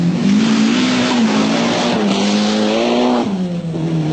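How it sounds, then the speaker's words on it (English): A turbocharged Colt Lancer rally car at the 1981 Lombard RAC Rally roars loudly and steadily for about four seconds, its engine note rising and holding near the listener, with a faint tyre squeal. "Another new car to Britain is the Colt Lancer. Following the current trend, its engine is turbocharged."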